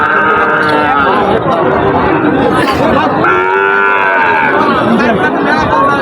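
Several cattle, including Sahiwal, Gir and Brahman bulls, moo loudly and repeatedly at a rain-soaked cattle market, long drawn-out calls overlapping amid a busy crowd of people chattering nearby.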